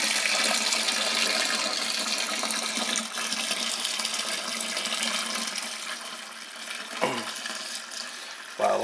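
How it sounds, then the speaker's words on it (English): Homemade elderberry wine poured carefully into a bucket, a continuous liquid splashing and trickling that slowly softens, then two brief clunks near the end. "Very carefully pour it into the bucket."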